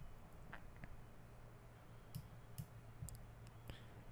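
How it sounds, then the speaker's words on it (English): A computer mouse clicks several times at an irregular pace, faint and close, over a quiet room hiss. "And click on that."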